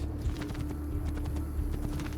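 Horse hooves clip-clop at a steady walking rhythm in Assassin's Creed 2, moderately close over a low game ambience hum, with no one talking.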